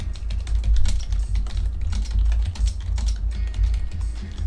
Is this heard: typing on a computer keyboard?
yes